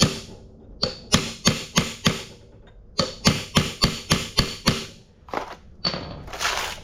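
Repeated hammer blows flattening a crowned sickle bar part on a White Kwik Kut to Crary Gold N Cut conversion, delivered in two quick runs of sharp metallic strikes, loud and close, with scattered lighter taps afterward.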